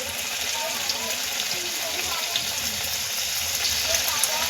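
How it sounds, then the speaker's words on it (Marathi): Veg khari patties deep frying in hot oil, a steady, even sizzle and crackle of bubbling oil that holds at a moderate level throughout with no pauses. "आता आपण हे डीप फ्राय करून घेऊया"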